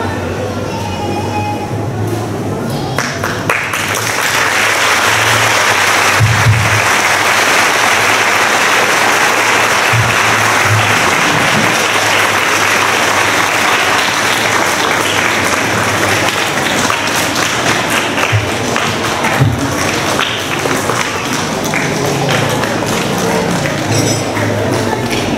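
A congregation at a children's mass breaks into long, loud applause, a dense wash of clapping that swells after a few seconds and holds steady, echoing through the church.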